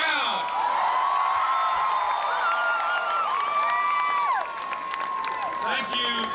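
A large outdoor political rally crowd in Centralia, Washington, with a 1996 presidential campaign, cheers, whoops and applauds steadily throughout, a dense roar with shrill individual shouts on top, loud and sustained before easing slightly near the end.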